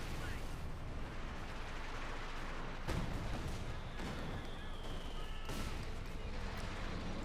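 Priest self-propelled artillery barrage in the Company of Heroes 2 battlefield, several distant booming impacts rumbling under continuous game noise and talk, with sharper hits near the three- and six-second marks.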